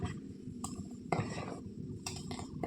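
Idli batter being stirred in a bowl, giving soft clinks and scrapes of a utensil against the vessel in a few short bursts, close by and moderately quiet.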